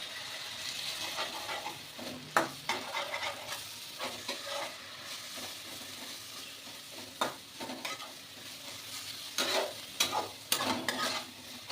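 Spices frying in oil and stirred after a few drops of water are added, a quiet steady sizzle broken by repeated scraping stirs and sharp crackling spatters at irregular moments.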